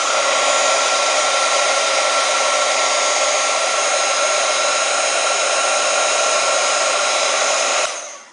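A hair dryer blows steadily and loudly on black ink soaked into a steampunk craft tag, a continuous broadband whoosh that runs unbroken for about eight seconds before cutting off.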